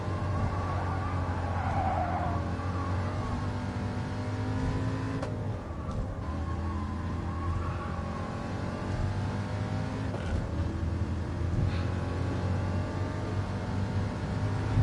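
A race car lapping the Tokyo circuit in GT Sport, its engine holding a continuous loud drone that rises and dips slightly through gear changes and corners, with no talk over it.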